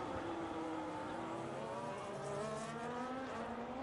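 Race cars in a sim racing league event at the Barcelona, Spain circuit roar steadily through turns, several engines whining and shifting pitch together in a continuous, dense drone with no voices.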